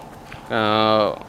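A single drawn-out bleat, about half a second long, from a goat that appears to be pregnant. It is clear and close, with no talk over it.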